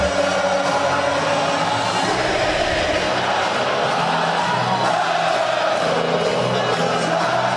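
A packed UFC arena crowd in Liverpool, Reds fans, roars continuously through a Scouse fighter's walkout, a dense, loud wall of cheering and whooping with musical tones woven underneath.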